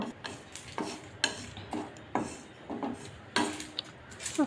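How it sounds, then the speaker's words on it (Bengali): Dried red chillies and bay leaves dry roasting in a kadai with no oil, giving a series of scraping stir strokes and light clatter against the pan at an irregular rhythm, close and moderately loud. "প্রথমে আমি শুকনো লঙ্কা আর তেজপাতাটা একটু রোস্ট করে নেব।"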